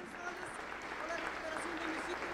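A church congregation claps steadily at an anniversary service, a moderate, even patter of hands with voices murmuring beneath it.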